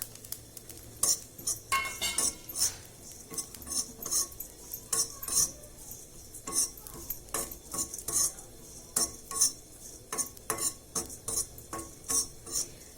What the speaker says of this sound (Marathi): हे आपल्या अर्धे धने भाजतात याच्यावर खोबऱ्याचा खिस भाजायचा